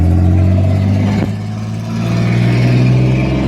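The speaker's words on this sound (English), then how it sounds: "The truck going by there." A truck drives past outside near an old school's basketball court and auditorium, a steady mid-pitched engine drone that swells and then fades.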